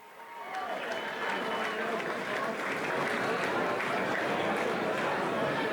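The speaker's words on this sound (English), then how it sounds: "Ladies and gentlemen, a round of applause." Sustained applause from a crowd at an XFC mixed martial arts event, dense and steady throughout as fighters head into the cage, with crowd noise swelling slightly over the span.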